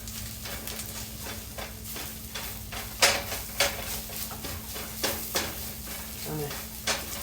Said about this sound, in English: we're going to add that to the bacon and kind of saute that up a little bit